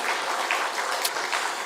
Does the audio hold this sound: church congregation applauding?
yes